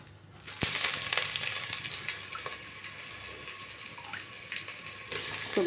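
Batter poured into hot oil sizzles and crackles steadily at close range, with a few sharp pops and splashes over a constant frying hiss.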